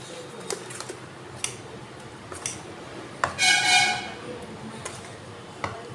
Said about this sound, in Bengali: এটা আমি ভালো করে মিশিয়ে নেব।